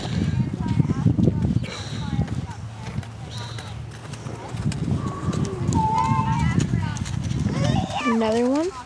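Horse hooves clip-clop at a moderate distance at a horse show beneath steady crowd chatter, with people talking and a whistle-like tone near the end.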